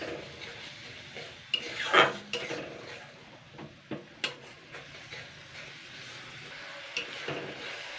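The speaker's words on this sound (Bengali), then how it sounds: "এটাকে জাস্ট 2-3 মিনিট ভালো করে আগে নাড়াচাড়া করে নেবো, মশলাটাকে কষিয়ে নেবো।" Spice paste (masala) being stirred and fried in a pan while cooking an old Bengali egg and boiled potato fritter dish, with scraping utensil strokes against the pan and a soft sizzle, occasional sharper clinks, no talking.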